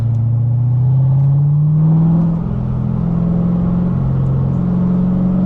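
A 2006 Chevrolet Corvette convertible with a six-speed manual gearbox revs hard while driving, a loud, close engine roar climbing in pitch and then holding a steady, throaty drone, with no talking over it.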